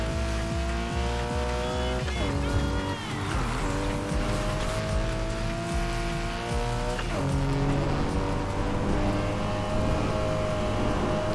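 Sports car in Need for Speed: Heat races around a circuit, its engine droning steadily with gear-shift drops and rising revs, tires squealing through corners, loud and continuous.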